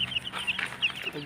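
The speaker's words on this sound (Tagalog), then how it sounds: "Kinong manok yan?" Chickens clucking in short, repeated high calls with brief gaps between them, fairly close by at a farmyard coop, with a faint background murmur beneath the calls.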